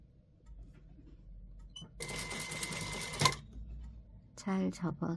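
Sewing machine stitching bias binding along a neckline, a dense mechanical whir lasting over a second after a quiet stretch, then a brief spoken voice near the end.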